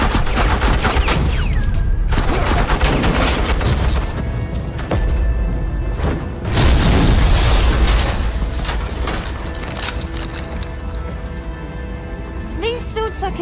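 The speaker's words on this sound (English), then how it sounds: "Suppressing fire." Dense suppressing gunfire in Batman: The Enemy Within, a loud continuous crackle of rapid shots with brief lulls and a heavier burst partway through, sustained throughout with no voices.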